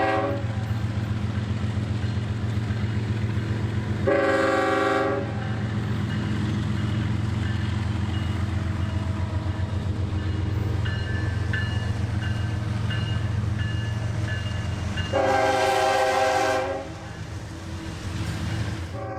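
A CSX freight train rumbles steadily close by near North Baltimore, Ohio while its horn sounds in two long blasts, one early and one near the end, over the constant rolling drone.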